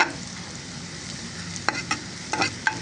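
Onion nearly browned sizzles with whole spices in a pan: cardamom, black cardamom, white and black pepper, cloves and cinnamon. A steady frying hiss runs throughout, with a few sharp stirring clatters near the end.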